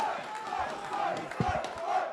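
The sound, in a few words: esports event crowd cheering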